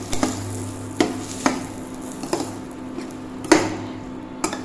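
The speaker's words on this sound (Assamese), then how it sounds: "এতিয়া মই খুব ধুনীয়াকৈ ভাজি ল'ম, যাতে জলকীয়া গুড়ি ধনিয়া গুড়িৰ কেঁচা গোন্ধ গুচি যায়।" Chili and coriander powder fry in a pan while a spatula scrapes and taps against it, sharp knocks at irregular intervals over a faint sizzle and a low steady hum, near and without speech.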